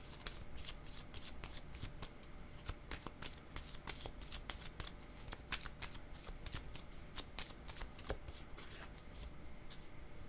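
Tarot cards shuffled by hand without pause: a quick, crisp run of papery riffles and snaps, close and steady throughout.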